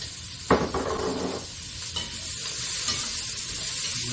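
Diced onion hits hot olive oil with a sharp burst of sizzle, then settles into a steady, close frying hiss with a few stirring scrapes, without any speech.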